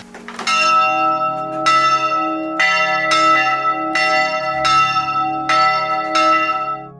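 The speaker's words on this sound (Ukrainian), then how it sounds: "Ці дзвони зараз встановлені у нас у храмі, і по сьогоднішній день закликають людей на богослужіння." Church bells at a temple in Torhovytsia, Prykarpattia, ring loud and close in a slow, regular series of about six strong metallic strikes with long shimmering overlapping decay.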